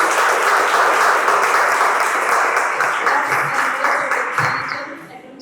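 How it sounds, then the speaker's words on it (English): A crowd at a presentation claps steadily in dense, sustained applause that gradually fades toward the end. "A round of applause for the two."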